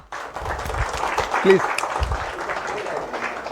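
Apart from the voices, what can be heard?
audience applause welcoming the prize draw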